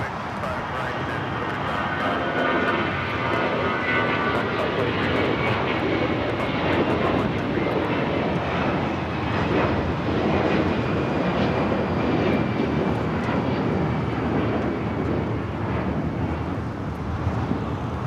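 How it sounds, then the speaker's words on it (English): An Avianca airliner takes off at LAX bound for San Salvador, a steady, loud jet engine roar mixed with wind noise that fills the whole stretch without letup, with faint talk beneath it. "That flight taking off is Avianca heading back to San Salvador"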